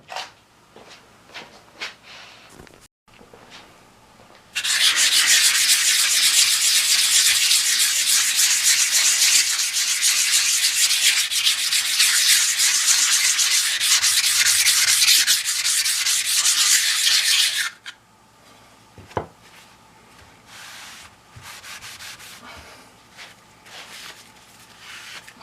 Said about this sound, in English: I may give it another scrub, and then we can turn it over and see what it does for this side